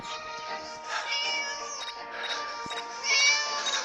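A cat meows repeatedly, a series of high, drawn-out cries close by, with no one speaking.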